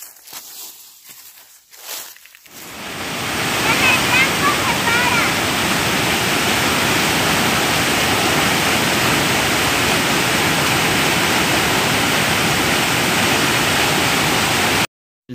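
Water pours loudly and steadily out of a cave during the rainy season, a dense continuous roar like a small waterfall that starts after a couple of seconds of quieter shuffling and holds at full strength, cutting off abruptly at the end.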